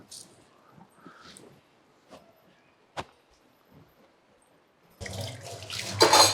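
Tap water runs while dishes are washed, first a few faint clinks and knocks in a quiet room, then a loud rushing stream of water filling the final seconds.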